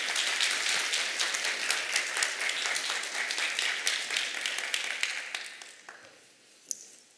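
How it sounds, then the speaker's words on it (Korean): Congregation members in a church clap to welcome a pastor, a full round of applause with distinct individual claps that gradually thins and dies away, leaving a single late clap. "우리 장영준 목사님 한번 모실 때 박수로 환영하도록 하겠습니다"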